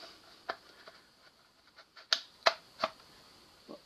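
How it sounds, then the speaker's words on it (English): AK rifle magazine being fitted into the magazine well, a few sharp metallic clicks and knocks close by, with quieter handling taps between them and no talking. "with the wider ones, you can actually stick the mag in there"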